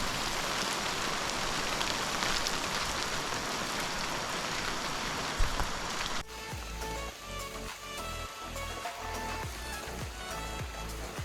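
Steady rain pours onto the forest canopy of a national-park trail on Doi Suthep-Pui near Chiang Mai, a dense hiss throughout. Midway it shifts to heavier, closer drips and patters, with no voices.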